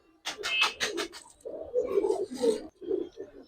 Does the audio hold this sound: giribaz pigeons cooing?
yes